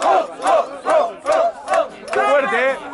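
A live crowd at a freestyle rap battle final in a plaza roars and shouts in rhythmic bursts, about six loud surges of chanting voices, then a longer sustained wave of cheering.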